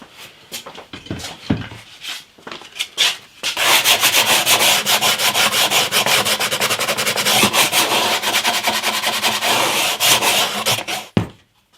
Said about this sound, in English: I'm just going to clean it up with some sandpaper